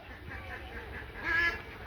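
Ducks near a pond after fleeing a dog, with a brief, faint quack or honk rising near the end over low outdoor background noise.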